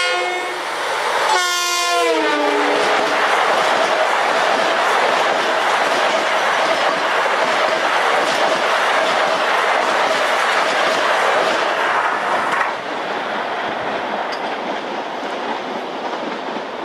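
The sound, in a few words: LIRR train running westbound on main line at 80 mph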